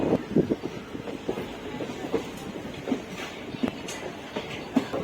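The Uttaranchal Sampark Kranti Express running on the Kathgodam to Delhi line, heard from on board as a steady rumble with rhythmic clickety-clack of wheels over rail joints, loud and continuous with no talk.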